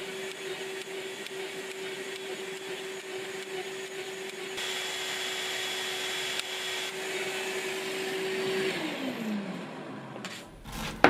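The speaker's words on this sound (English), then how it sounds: "Using the Festool Holy Rail and router combination makes the job fast and accurate" A Festool router running along a Holy Rail jig, plunging shelf pin holes in wardrobe carcass panels: a steady, close motor whine that rises in intensity partway through, then winds down near the end.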